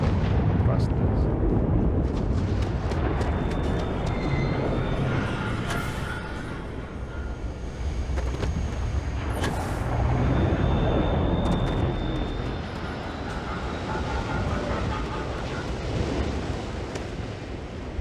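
Spaceship thrusters firing in Starfield: a loud, continuous broadband roar and rumble with gently swelling intensity, holding steady for the full stretch with no voices.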